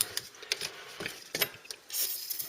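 A ratchet winds a seized fastener back in on a Ford Cortina MK3 that has been sprayed with penetrating oil, giving a run of light metallic clicks and pawl ticks, close and fairly quiet, in short irregular strokes.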